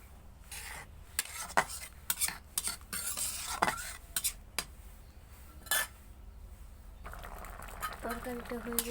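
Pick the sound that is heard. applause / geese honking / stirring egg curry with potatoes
stirring egg curry with potatoes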